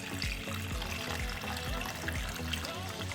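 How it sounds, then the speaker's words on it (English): Water pours steadily into a cooking pot of scored carrots, a continuous trickling stream running close and clear for a few seconds with no talking. "To the carrots I'll be adding in some water."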